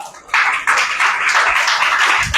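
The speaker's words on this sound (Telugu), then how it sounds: "కొట్టు చప్పట్లు గట్టిగా" A church congregation claps loudly during a Sunday sermon, a dense, sustained burst of many hands that starts abruptly and continues steadily to the end, close and full.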